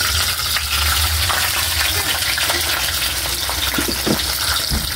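Fish is laid into a hot pan, producing a loud, dense, continuous sizzle and crackle at close range that carries on steadily without talk.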